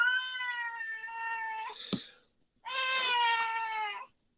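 A cat meows twice, each a long, loud, close call, separated by a brief pause and a short sharp click; no talking.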